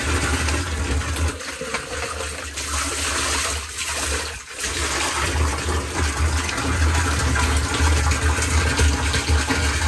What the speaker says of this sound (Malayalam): ഇതുപോലെ വെള്ളത്തിൽ മിക്സ് ചെയ്തതിന് ശേഷം അത് നമ്മൾ ഈ ഒരു ഏകദേശം 50 ലിറ്റർ വെള്ളത്തിലേക്ക് അത്